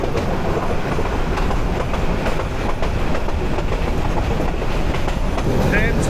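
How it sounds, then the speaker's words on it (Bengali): Rumbling, continuous rattle of a passenger train slowing on its approach to Kumira railway station in hilly country, with wheel clatter and a faint metallic squeal near the end. "ট্রেন স্লো হয়ে যাচ্ছে। সামনে কুমিরা রেলওয়ে স্টেশন, যেখানে আমাদের গন্তব্য।"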